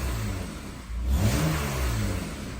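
Honda-built 3.5 V6 in a Saturn Vue revs up from idle after a brief dip, a close, loud mid-pitched engine roar that rises and holds steady, alone with no talking.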